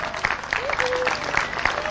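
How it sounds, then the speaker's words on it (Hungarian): Audience applause at a 1997 beer festival in Hungary, steady crowd clapping with a few louder individual claps and a faint whistle, moderately loud and continuous. "Tapsot nekik!"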